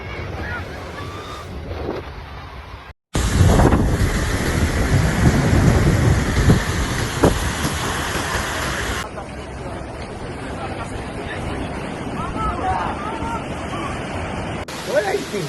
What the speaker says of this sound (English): Hurricane Beryl brought damaging strong wind gusts, storm surge, and damaging waves to the Cayman Islands this morning